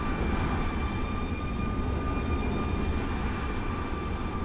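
Aircraft engine in Microsoft Flight Simulator beside a Royal Brunei Airlines Boeing 787-8 at the gate, a loud, continuous whine and roar with steady tones holding throughout.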